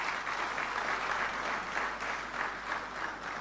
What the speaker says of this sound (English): May I please ask you to give him a warm round of applause.